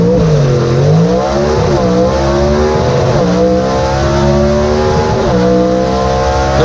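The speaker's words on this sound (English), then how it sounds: "Love to let you hear those high winding small blocks." High-winding small-block race car engine revving hard at a dirt track. Rising and falling pitch sweeps repeat through the gear changes, loud and close, with a constant roar underneath.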